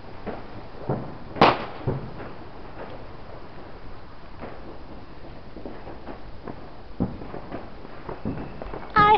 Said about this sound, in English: I heard fireworks.